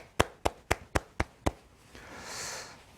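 A youth congregation in a church service claps: six sharp, evenly spaced claps ring out close and loud, followed by a soft, fading hiss of room noise.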